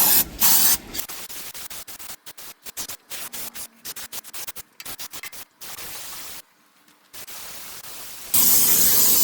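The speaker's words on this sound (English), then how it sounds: "go spray some stuff through the crank" Bursts of hissing aerosol spray flushing the crankcase of an old Chevrolet C20 engine, a long blast followed by rapid short sputtering squirts with brief gaps, then another steady loud hiss, close by.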